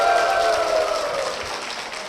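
Church audience applauding to welcome a deacon to the stage, a steady wash of clapping from a crowd that holds fairly even and slowly tapers over about two seconds.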